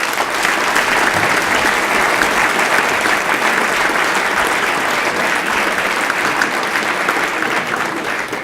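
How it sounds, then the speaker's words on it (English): Audience applause at the St. Gallen Wings of Excellence Award event, a loud, sustained burst of many hands clapping that holds steady throughout and tapers slightly at the end. "Big round of applause, please."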